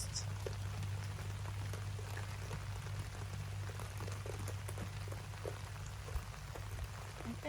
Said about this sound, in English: I think everybody's loving this rain.